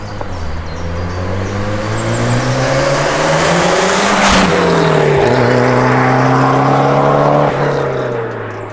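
A modified Peugeot 106 4x4 with a Cosworth engine of over 400 bhp drives along a country road, its engine droning loud and steady, briefly revving up and dropping as it shifts.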